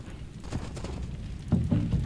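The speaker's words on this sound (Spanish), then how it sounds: "Otro caballo aquí perdido." Horse hooves clip-clop in the Age of Empires II HD strategy game, a few uneven clopping steps, with a louder cluster of hoofbeats near the end.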